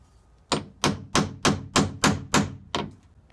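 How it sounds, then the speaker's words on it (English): Eight sharp metallic taps from a small hammer striking a punch during a Milgard vinyl window replacement, evenly paced and close, ringing alone with no talk. "Use a smaller hammer so as not to bang too much."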